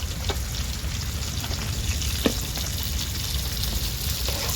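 Thinly sliced onion and two finely chopped green chilies frying in a pan for chicken fry. A steady, close, continuous sizzling hiss runs throughout, broken by a couple of sharp clicks, with no voices.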